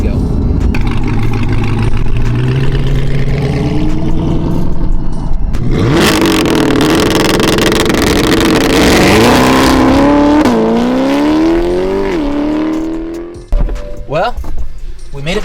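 Supercharged C8 Corvette with a 650 hp LT2 engine driving hard, loud engine revs climbing through gears with audible shifts and a sharp burst near the end, close and continuous.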